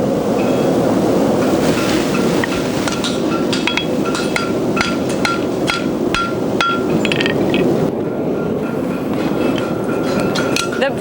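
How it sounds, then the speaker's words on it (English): A farrier strikes a fuller on an egg bar horseshoe with a hammer, forming a three-quarter crease: a steady run of sharp, ringing metal blows close by, many in quick succession, with no talking. "now it's starting to take shape and look like an actual crease"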